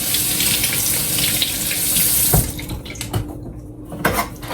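Loud tap water gushes into a kitchen sink while dishes are washed, a steady close rush that cuts off partway through, leaving dripping, clinks and handling noises.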